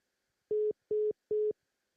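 Three evenly spaced beeps of a telephone busy tone on a dropped call-in caller's line, clean and moderately loud with silence between them and no talking.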